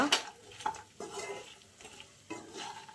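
Dried mango pickle stirred with mustard seeds in a pan: several scraping, clinking spoon strokes against the metal, with brief gaps between them and no voices.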